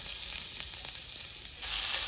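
Onion and green chili sizzle on a hot griddle pan, a steady, fairly close hiss of frying that holds evenly and swells slightly louder near the end, with no talking.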